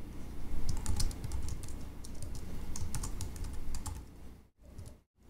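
Computer keyboard typing while registration details are entered for an online contracting signup, steady close clicking for about four seconds before brief pauses, no voices.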